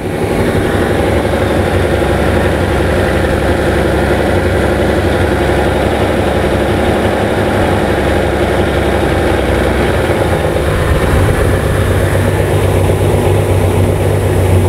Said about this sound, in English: We're on a nice healthy 900 revs with a lumpy cam.